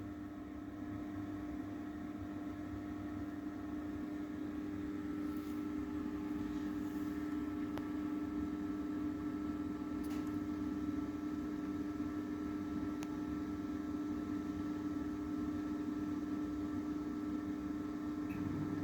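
A homemade egg incubator's fan hums steadily throughout, with a few faint clicks and no other activity.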